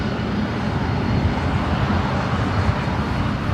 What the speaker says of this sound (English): Our next arrival is VistaJet, flight 731, coming in from Seoul, Bombardier.